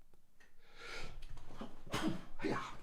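A man sneezes close to the microphone, two sharp bursts near the end after some breathy build-up, with no talking.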